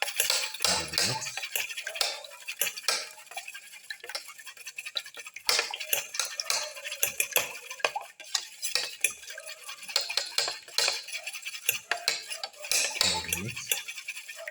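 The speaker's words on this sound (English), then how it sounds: "Mix the eggs." Beaten eggs stirred in a frying pan with a utensil, a long run of rapid close scraping and clicking strokes against the pan, continuing with irregular bursts and no speech.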